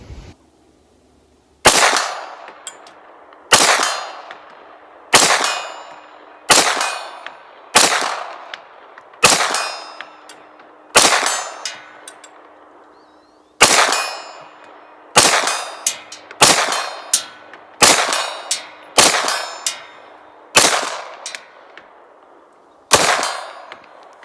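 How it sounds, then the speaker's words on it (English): A Springfield XDM Elite pistol fires about sixteen single shots at steel targets, each sharp crack followed by a ringing decay, spaced a second or two apart at a steady pace. "If I can bang away on the steel with a pistol at 100, it's a good shooter"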